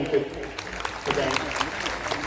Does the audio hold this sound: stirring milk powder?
no